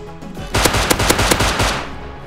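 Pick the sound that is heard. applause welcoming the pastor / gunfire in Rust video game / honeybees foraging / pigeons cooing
gunfire in Rust video game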